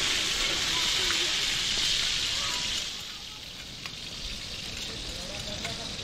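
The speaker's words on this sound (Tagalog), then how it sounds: "Lalagay na natin yung sibuyas at bawang mga katangay" Onion and garlic sizzle steadily in a hot frying pan, a bright continuous crackle that is louder at first and softens partway through, with faint speech underneath.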